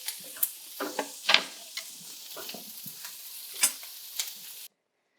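White beans being mashed with aromatics in a hot pan on the stove: soft irregular squelching and scraping strokes with light sizzle, close and alone, ending abruptly.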